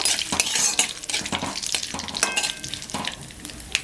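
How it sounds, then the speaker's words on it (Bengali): Whole spices such as cardamom and cloves, with curry leaves, are stirred in a hot wok, a light sizzle under repeated scraping spatula strokes and metal clinks, close up and without talk. "তো হালকা নেড়ে নেব।"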